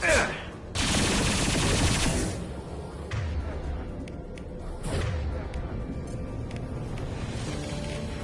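Mass Effect 2 gunfire during a cover firefight: a heavy sustained burst of automatic shots up front, then scattered sharp single shots and thuds over a rumbling battle background, with no voices.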